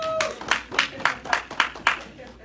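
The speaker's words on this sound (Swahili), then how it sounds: "Tupige Mungu makofi kwa ajili ya Maiga." A church congregation claps in a quick, even rhythm of about seven beats, fairly close and lively, right after a pastor's call.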